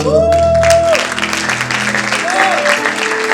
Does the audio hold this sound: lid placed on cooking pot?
no